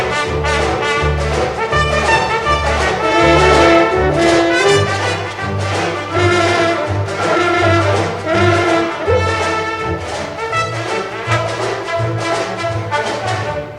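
An orchestra plays in the style of Gershwin, a full, loud and sustained ensemble sound with a steady, pulsing low bass line running underneath throughout.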